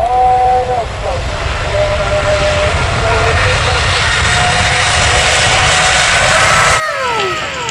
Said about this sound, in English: Garuda airplane